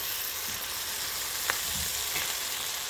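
Steady, close sizzling of meat frying in a pan, a constant hiss with a couple of soft stirring sounds.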